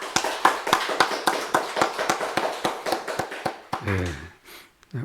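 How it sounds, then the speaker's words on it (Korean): A church congregation at a Sunday afternoon service gives applause of praise: uneven, fairly sparse clapping with distinct individual claps, moderately close, and a voice briefly speaking near the end. "우리 하나님께 영광의 박수 올려드리겠습니다"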